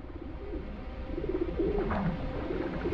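Pigeons coo softly in an urban setting in Albi, France, a low throaty murmur running steadily through the whole stretch with no voices over it.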